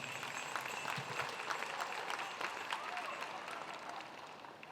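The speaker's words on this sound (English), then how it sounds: "Let's give Madison a round of applause one more time." Audience applause at a cultural presentation during a festival, a steady patter of many hands clapping at moderate distance, with voices mixed in, tapering slightly toward the close.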